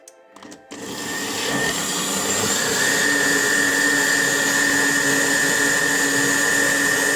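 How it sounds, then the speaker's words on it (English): Blender puréeing cauliflower soup, a steady loud whirring motor drone that starts after a short clatter and runs continuously to the end, no talk. "I'm going to just put my soup in the blender and show you my end result."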